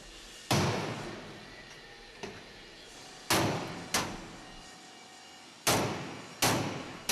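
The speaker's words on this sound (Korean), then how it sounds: "여기저기 망치질에 여념이 없다." Steel safes being hammered in a safe factory, with sharp metallic blows landing in uneven pairs and singles, each ringing out and decaying before the next, close and fairly loud with no talk.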